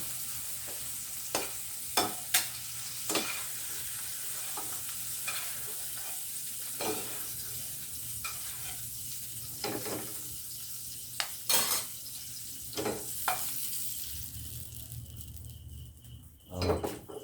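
Squid sautéing in a pan with tomatoes, a soft continuous sizzle broken by repeated sharp clinks and scrapes of a spatula against the pan, ending in a brief clatter.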